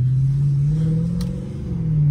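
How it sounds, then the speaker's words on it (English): A Dodge Charger SRT 392 V8, being rebuilt after a wreck, holds a loud, deep, steady idle-like rumble close by, with a slight rise and dip in pitch and no voices. "there's no way my car should be this loud"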